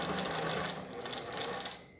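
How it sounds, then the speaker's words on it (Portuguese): A sewing machine stitches the hem of a cotton dish towel, its needle chattering in a rapid, steady close-up rhythm before slowing and stopping near the end. "Continuamos nossa costura aqui na máquina, deixando bem arrumadinho aqui o canto"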